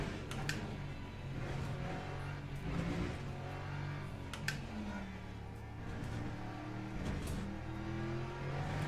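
A race car engine in Le Mans Ultimate revs on a qualifying lap, its pitch rising and dropping with the gear shifts, fairly quiet and continuous with a few sharp clicks.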